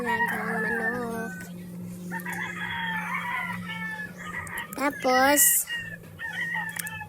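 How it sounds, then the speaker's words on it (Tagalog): Roosters crow repeatedly among clucking chickens, one loud nearby crow standing out, while a person briefly speaks in the background. "every morning siya nagpapakain sa mga alagang manok."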